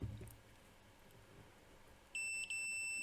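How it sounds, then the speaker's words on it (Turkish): After a quiet moment, a multimeter's continuity buzzer sounds a steady electronic tone for about a second while testing a fuse in a fiber optic splicer, briefly cuts out, then returns. "Şöyle cihazımızı buzzer moduna aldık."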